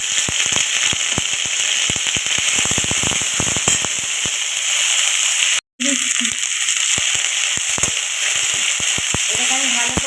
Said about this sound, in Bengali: আদা রসুন বাটা দিচ্ছি।